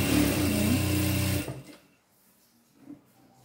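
A sewing machine runs loud and steady for about a second and a half, closing the side and crotch seams of a pair of pantacourt trousers, then stops, leaving near silence with a faint knock.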